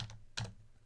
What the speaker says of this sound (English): I'm just typing in Pup Named